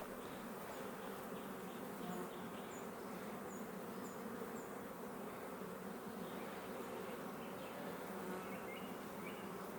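A dense, continuous drone of many bees buzzing around a beehive, close and steady throughout, with occasional higher passes of individual insects and no talking.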